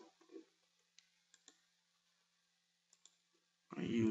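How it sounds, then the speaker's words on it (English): Computer mouse clicks at a desk during forensic examination of an Android smartphone: a handful of quiet, sharp clicks spaced unevenly, some in quick pairs, followed at the end by a sudden louder burst of sound. "we're going to go ahead and right click on this, go to file, we're going to save it to the desktop again."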